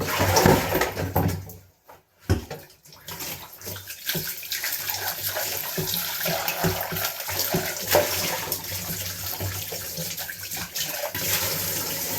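An opened tap sends water gushing in a steady splashing stream, briefly cut off and then running again continuously close by.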